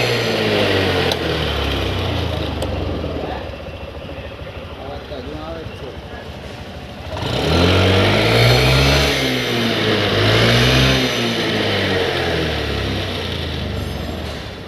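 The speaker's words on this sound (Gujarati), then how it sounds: "એક્ટિવામાં હજુ અવાજ એવો ને એવો જ આવે." A Honda Activa scooter engine runs just after a service, its steady idle rising into two revving swells midway, close and fairly loud, with voices talking over it.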